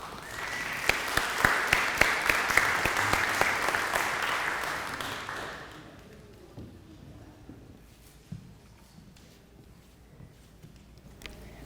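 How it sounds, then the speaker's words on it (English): An indoor audience at a lunchtime talk gives a warm round of applause, dense clapping that carries for several seconds before fading into a few scattered claps, shuffling and quiet room noise. "we have a warm round of applause for Andrea."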